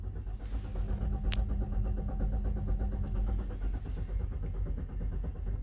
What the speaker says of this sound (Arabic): الموتور دار لوحده اهو، بس العربيه مش هتدور.